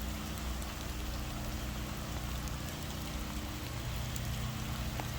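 Steady broadband hiss of a pressure washer spraying water across a wooden fence during a rinse, continuous and moderately distant, with no talking.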